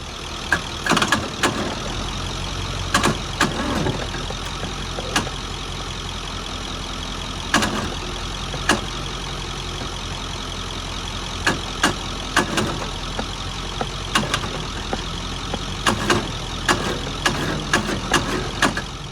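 Engine of a seized Mighty Mac 8c skid steer, saved from the scrapyard, churning and running with a steady rumble, punctuated by sharp clanks and knocks throughout, no talking.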